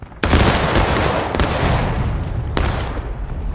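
A musket volley in the Civil War game War of Rights: a loud ragged burst of overlapping gunfire, followed by a second crack about two seconds later, with rumbling echo filling the space between.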